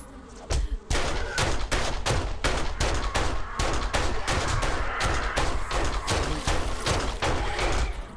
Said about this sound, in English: I will bring out my gun, Frank!